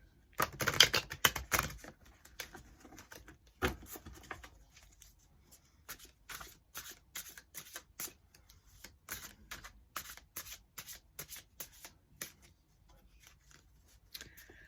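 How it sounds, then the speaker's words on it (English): Tarot cards are shuffled in crisp, irregular bursts of riffling and tapping, close by and without any talking. "So I will shuffle the cards up good"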